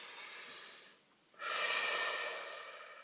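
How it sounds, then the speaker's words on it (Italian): A slow, deep breath during a guided group relaxation: a soft airy inhale fades, a brief pause follows, then a longer and louder exhale streams out, close to the microphone, with no talking. "facciamo un bel respiro."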